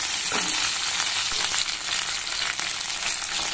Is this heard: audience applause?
no